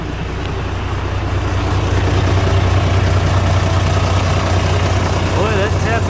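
A tractor's diesel engine idles steadily after repair, a loud, close, continuous low rumble with a rough knocking pulse running through it, and faint voices in the background.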